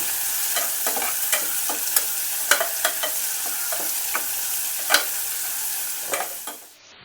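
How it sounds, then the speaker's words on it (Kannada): Onion stirred into hot oil in a pan while cooking raw banana palya: continuous soft sizzling with repeated scraping and clinking of the spoon against the pan at an irregular rhythm, close and clear, fading out at the end. "ಒಂದು ಸ್ವಲ್ಪ ಈರುಳ್ಳಿ ಹಾಕೋಣ ಈ ಥರ ಮಿಕ್ಸ್ ಮಾಡ್ಕೊಳ್ಳೋಣ"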